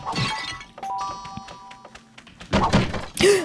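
Kao the kangaroo stomps along in the video game Kao the Kangaroo Round 2, a run of heavy thuds mixed with chiming and shattering game effects in short, loud bursts.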